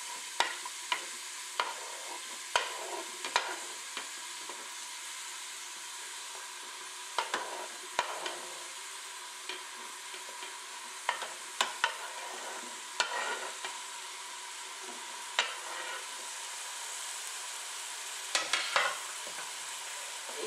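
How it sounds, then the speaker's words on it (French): Diced zucchini, browned meat and onion are stirred in a Cookeo multicooker, soft sizzling under repeated scraping and knocking of a utensil against the pot, irregular and close. "Et je remue le tout."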